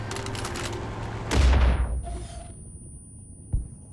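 Rapid gunfire bursts in the video game Far Cry 5 while shooting at a vehicle's tires, a dense volley followed by a heavy boom, then a quieter lull and one last sharp shot.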